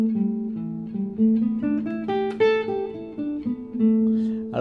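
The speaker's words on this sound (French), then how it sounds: "des doubles stops, c'est-à-dire 2 notes qu'on joue ensemble" A guitar plays pentatonic double stops, pairs of notes sounded together in a short, rhythmic, clean phrase, moderately loud and close, without voices.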